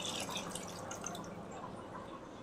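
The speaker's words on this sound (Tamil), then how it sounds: "இந்த ஸ்டேஜில் நம்ம மட்டன் வேக வச்சுருந்த தண்ணி சேர்த்துக்கலாம்" Water that mutton was cooked in is poured into a simmering curry pan, a soft continuous splashing and trickling with faint bubbling, quiet and close.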